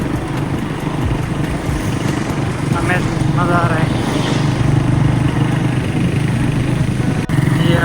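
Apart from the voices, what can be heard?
motorcycles riding on road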